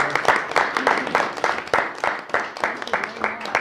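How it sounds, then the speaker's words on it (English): A city council meeting audience claps in a steady patter of individual handclaps, fairly close and moderately quiet, sustained for a few seconds with no talking over it. "I applaud you."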